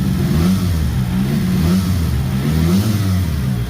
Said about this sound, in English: The exhaust is kind of disconnected in the center there and kind of just sitting there, so that's the rattle you guys are hearing.